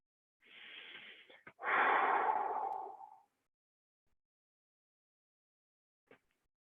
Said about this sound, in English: And you're breathing.